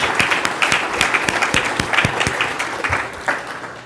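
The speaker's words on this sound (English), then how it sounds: "So please give them a round of applause" Audience applause at the opening keynote of a space industry conference, a steady patter of many hands clapping with dense sharp claps throughout, fairly loud and without speech.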